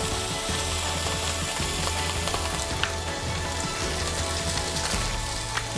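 Steak frying in avocado oil gives a steady, dense sizzle throughout, close and even, with faint mechanical clicks and no talking.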